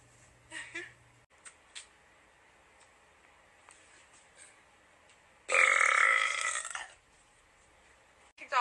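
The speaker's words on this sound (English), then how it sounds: "I'm going to burp one more time and then go" A woman on a live stream lets out one loud, long burp lasting over a second, preceded by a few faint smaller sounds and quiet moments of near silence.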